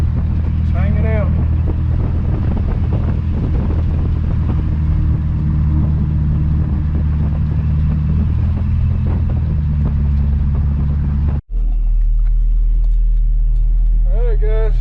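A Chevrolet C10 truck cruises along the road with a loud, steady engine rumble from inside the cab, and a person talks over it; a brief cut near the end is followed by a deeper, quieter drone.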